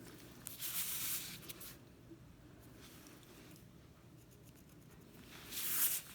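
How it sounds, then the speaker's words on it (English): A pencil draws light, precise lines across paper, leaving soft scratchy strokes in short bursts with quiet gaps between them, close by and faint. "I'm going to connect those two lines, or those two dots, and draw a light line."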